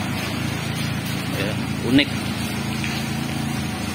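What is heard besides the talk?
1995 Mazda MR carburetor engine running, hood open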